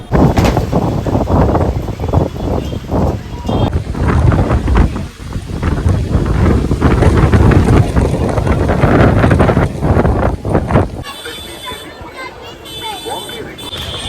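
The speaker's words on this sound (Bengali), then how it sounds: "হঠাৎই জোর হাওয়া ছেড়েছে" A sudden strong gust of wind in Rishikesh blows up dust, making loud, steady buffeting rumbles against the microphone that ease off near the end, with voices faintly beneath.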